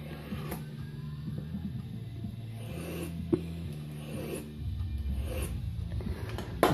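An everyday-carry pocket knife blade edge is drawn along a sharpener in short, repeated scraping strokes, close up and fairly quiet, with a brief click midway and a low background hum.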